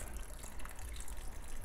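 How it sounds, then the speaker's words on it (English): Water gushes steadily from a Marineland canister filter into an aquarium, a close, continuous splashing rush with no voices over it. "So this is running off of my Marineland canister filter."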